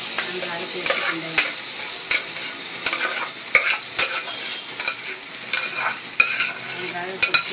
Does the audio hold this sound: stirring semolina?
yes